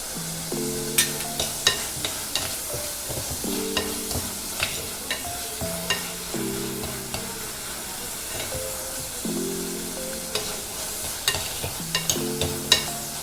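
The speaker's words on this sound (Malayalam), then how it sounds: "ഒരു 2 മിനിറ്റ് തക്കാളി ഒന്ന് വാടി വരുന്നവരെ നമുക്ക് ഇതൊന്ന് ഇളക്കി കൊടുക്കാം" Tomato, ginger and green chilli frying in a pan for a Kerala fish curry, a steady sizzle under repeated scraping stirs and taps of the spoon, close and moderately loud, with no talking.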